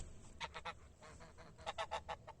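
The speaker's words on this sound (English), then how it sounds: "a pack of Canadian geese were flying south for the winter" Canada geese honk in flight, two bursts of rapid overlapping honks, the first a short trio and the second a longer run of calls, fairly clear against a quiet background.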